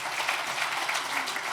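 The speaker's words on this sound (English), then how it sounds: "round of applause for those opening remarks" An audience at an energy innovation conference applauds after opening remarks, giving a dense, even wash of many hands clapping at once. It runs steadily for the whole moment with no voices over it.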